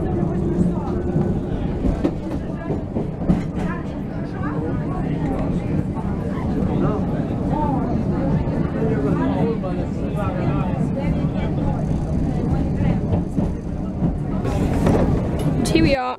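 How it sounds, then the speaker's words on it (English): Steady rumble of a Circumvesuviana train ride from Sorrento to Naples with rhythmic clatter underneath, continuous and close, while people talk throughout the carriage. "This is the train to Naples."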